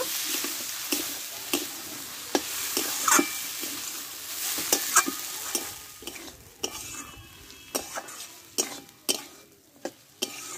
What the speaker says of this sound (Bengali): মশলার সঙ্গে ভালো করে কষে নিব।